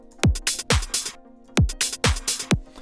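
A tech house drum loop of steady kick drums and crisp hi-hat ticks without the extra layered hats, a dry repeating groove of clear punchy hits.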